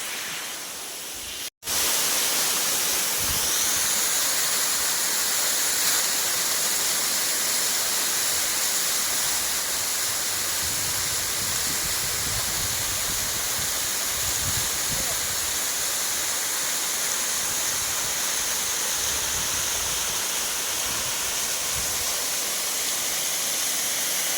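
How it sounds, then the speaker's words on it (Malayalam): Two waterfalls roar in a steady, loud, broadband rush of falling water that holds unbroken for the whole stretch after a brief cut near the start. "അപ്പോൾ അടിപൊളി വെള്ളച്ചാട്ടം രണ്ടും"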